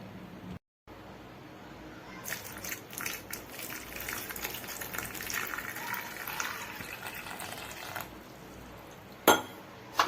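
Water poured from a vessel into a kitchen pot of tomatoes set to boil for homemade pizza sauce, a steady hissing gush lasting several seconds, with faint clinks of cookware before and after.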